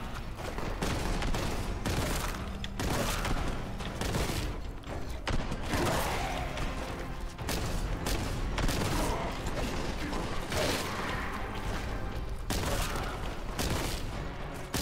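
Rapid bursts of boltgun fire from Warhammer 40,000: Boltgun, steady and dense with mechanical clatter and impacts over game action, loud throughout with no pauses.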